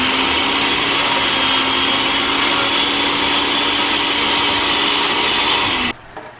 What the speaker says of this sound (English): We got to put some in the blender.